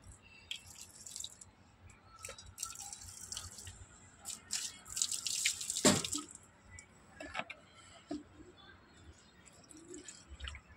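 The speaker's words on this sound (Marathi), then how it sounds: "पहिला तुळशीला पाणी घालायचं, मग सगळ्यांना झाडांना घालायचं" Water poured over a tulsi plant and other potted plants, giving soft, intermittent splashes and drips with a brief louder splash midway, faint and close.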